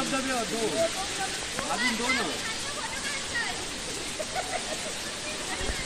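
Heramb waterfall in Konkan: a steady broadband rush of falling water runs through the whole stretch, with a person talking over it.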